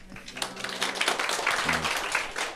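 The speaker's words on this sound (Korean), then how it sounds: "시작도 안 해서 수업의 결과도 듣지 않고 이렇게 박수부터 나온 거 보니까" Students in a Korean classroom lecture on real estate tax applaud together with steady, moderately loud clapping, while a voice is heard faintly underneath.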